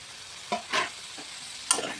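A spatula stirs cut sweet pumpkin with green chilli and spices in a frying pan for a fish-head curry, making four short, separate scraping strokes over a faint background.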